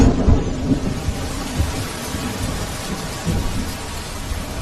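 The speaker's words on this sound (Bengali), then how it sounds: "এমন সময় বাইরে আবার ঝমঝম করে বৃষ্টি নামল।" Heavy rain pours steadily with low rumbling thunder rolling underneath, a dense storm sound effect from a Bengali suspense audio drama, loud and continuous with no voices.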